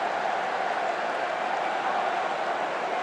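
Bolton Wanderers supporters cheer after a counter-attacking goal in a match against Arsenal, a steady, distant wash of crowd noise and applause with no clear peaks, holding at an even level throughout.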